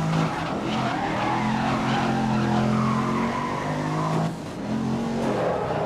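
A Mini racing car in GRID 2019 drives a circuit, its engine droning loudly and steadily with tires skidding and squealing throughout, dipping briefly near the end before picking back up.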